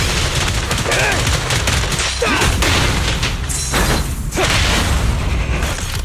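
Rapid gunfire and heavy booms from the action video game Zenless Zone Zero, dense bursts of shots and impacts crowding together close and loud with brief pauses.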